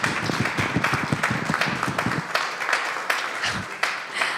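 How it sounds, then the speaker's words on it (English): Audience applause at a temple lunch-and-learn gathering, a steady dense patter of many hands clapping together, fairly close, thinning slightly toward the end with no talk over it. "another round of applause."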